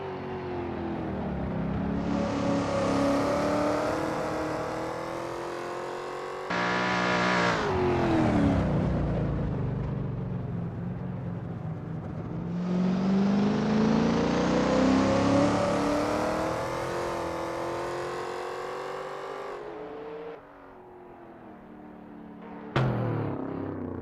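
NASCAR-style race cars in Assetto Corsa at Sonoma Raceway drone and rev through gear changes, a loud engine pitch climbing and dropping in long sweeps with abrupt shifts, close and continuous with no talk.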